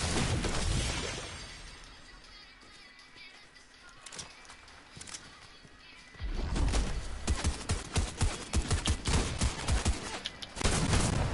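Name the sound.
gunshots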